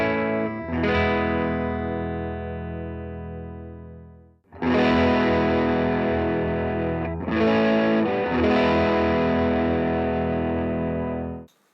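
Electric guitar through an Ibanez Tube Screamer TS9 drive pedal rings out as one long sustained overdriven chord, then two more loud strummed chords that hold and decay, with no talking.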